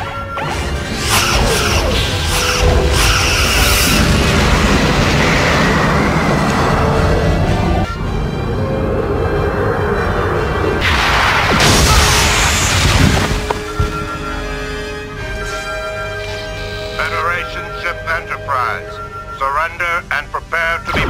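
Starship weapons fire and explosions from Star Trek: Enterprise: loud crashing booms and whooshing phaser-like bursts come in heavy waves, then thin out into scattered hits, with a voice heard in places.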